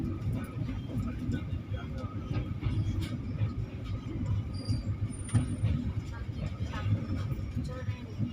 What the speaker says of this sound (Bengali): আমাদের ট্রেন এসে দাঁড়িয়েছে বোলপুর স্টেশনের 1 নম্বর প্ল্যাটফর্মে